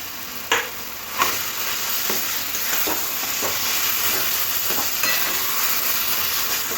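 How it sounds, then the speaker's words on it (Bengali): Mashed boiled potatoes fry in spice masala for egg devils with a steady loud sizzle, while a spatula scrapes and knocks the pan every second or so, close up, with no voices. "আলুগুলো মশলার মধ্যে দিয়ে কষে নিতে হবে"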